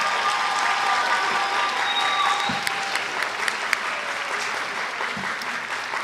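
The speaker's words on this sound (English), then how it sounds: "Give them a round of applause" Audience applause for ninth-grade band students at a junior high spring band concert, a steady wash of clapping from a crowd that carries on for the whole stretch and eases slightly toward the end.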